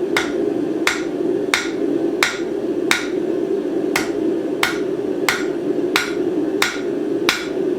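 Hammer forging a taper on a paperclip, a steady run of about a dozen sharp metallic strikes spaced under a second apart, close and crisp over a constant background hum, with no talking.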